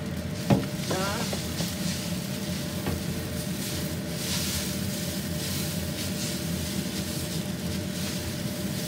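Vegetarian glass noodles stir-fried in a pan, a continuous loud sizzle with scraping and stirring clatter, a sharp metallic knock near the start, no voices.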